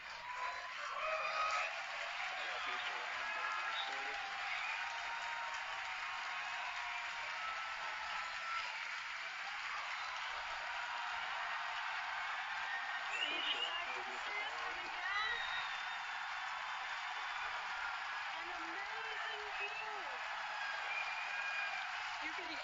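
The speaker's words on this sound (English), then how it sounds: "You can hear our crowd going crazy right now." Spectators cheering and clapping as the SpaceX Falcon Heavy side boosters touch down on the landing pads during the Arabsat 6A mission, a steady distant crowd roar running throughout with a voice talking over it.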